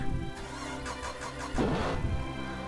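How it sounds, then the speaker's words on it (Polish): Car engine starting in the racing game Burnout Paradise, a cranking rise into a steady running drone over about three seconds, loud and continuous with no talk. "pozwólcie teraz, że uruchomię silnik"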